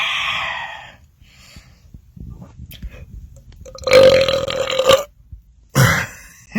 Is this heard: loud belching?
yes